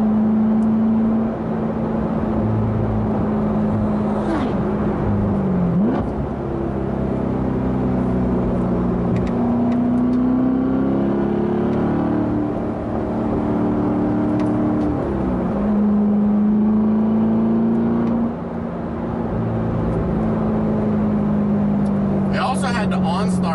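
A 2016 Corvette C7 Z51 in sport mode gives a loud, continuous engine drone whose pitch climbs and dips several times as it accelerates and shifts, heard from inside the car.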